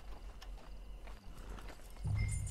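Horse hooves in the Red Dead Online video game clop steadily at a walking pace, close by, with a heavier low thump near the end and no talk.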